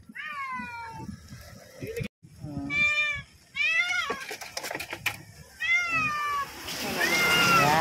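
A rescued tiger-striped cat meows repeatedly and close by, with a string of clear, drawn-out calls separated by short pauses, over light background noise and some talking.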